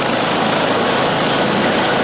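A steady, loud rotor and engine roar fills the air without a break, a helicopter running close by at a mock crash drill, with no voices.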